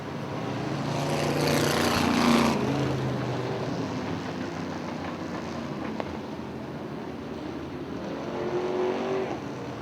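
UMP modified race cars on the Hartford Speedway oval, their engines roaring steadily as they run the final turns of a heat race, the roar swelling as the pack passes close and then easing back into the distance.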